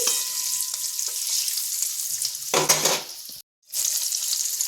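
Cauliflower masala with a green chili is stirred in a hot pan, a steady close sizzle with scraping and a louder stir around the middle, then a brief cut before the frying resumes.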